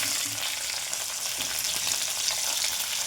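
Green chillies fry in hot oil with chana dal and urad dal, giving a steady, close, loud sizzle with faint stirring throughout and no voices.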